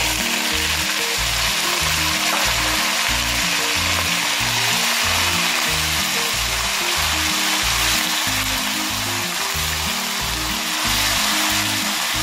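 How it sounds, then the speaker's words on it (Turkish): Loud, continuous sizzling of one kilo of lamb cubes frying in a hot pot, with rhythmic stirring scrapes underneath. "etimizi tenceremize boşalttığımız zaman yüksek sesle bir cos sesi duydunuz"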